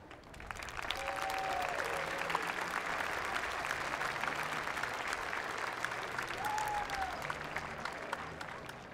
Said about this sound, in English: Let's take a moment to recognize with a round of applause your teachers.